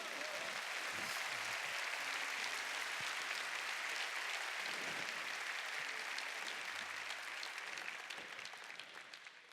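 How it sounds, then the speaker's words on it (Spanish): A church congregation claps loudly for the Lord, a broad sustained wash of applause that stays strong and steady, then begins to fade near the end. "Dale fuerte el aplauso al Señor."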